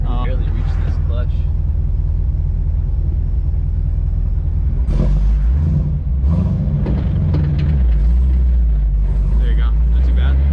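Chevrolet Corvette C7 Z06 engine starting and driving off, a deep low rumble under frequent talk from people inside the car, with a few sharper revs rising through the clip.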